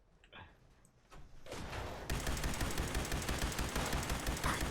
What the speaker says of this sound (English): All those cars just blew up. Look at them go.